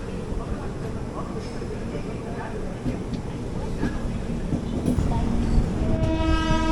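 The 16381 Pune–Kanniyakumari Jayanthi Janatha Express pulls away with a steady rumble and rattling of the carriages, building in loudness, before a horn sounds out near the end.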